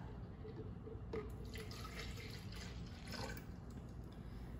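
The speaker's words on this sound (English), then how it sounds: "pour in some juice, and you measure it to 1 cup" Juice is poured into a measuring cup in a soft trickling, splashing stream, faint against a quiet room with a couple of light knocks.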